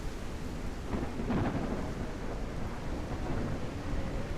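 Thunder rumbling through a video game thunderstorm, with rain hiss underneath; a steady, broad roar that swells slightly around the middle, continuous and fairly loud throughout.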